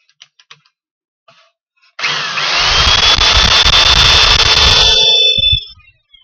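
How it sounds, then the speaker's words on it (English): A power drill bores the final hole through a wooden camping chuck box, a steady loud whine running about three and a half seconds, preceded by a few light taps and handling knocks. "we also can drill the final hole,"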